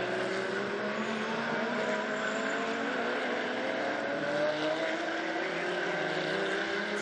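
GT race cars at the Zhejiang circuit in a Blancpain GT Series Asia race, engines howling together in a loud sustained roar with rising and falling pitch as the battling pair sweeps past.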